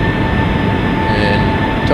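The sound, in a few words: Boeing 757 jet engines spooling up, flight simulator video game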